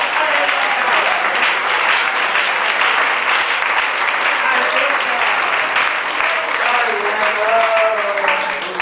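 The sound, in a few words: congregation applause in church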